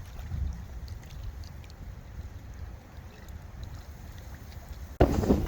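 Steady gusty wind of up to 10 m/s rumbles and buffets the microphone outdoors near water in early spring, low and continuous, with a sharper gust surging in at the end.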